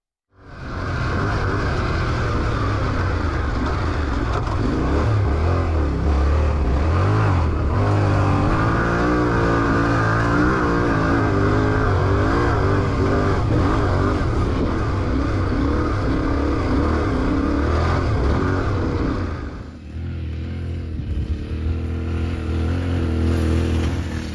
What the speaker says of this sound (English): Traction is on the rear wheel, the bike will blow right through.